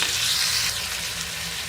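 Chopped onions sizzle steadily in hot oil, lightly frying for baingan bharta, a close, continuous hiss with no voices.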